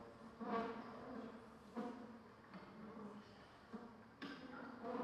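A can of honey bees is dumped into a nuc box of frames, brood and comb, giving a steady insect buzz with louder swells that rise and fall.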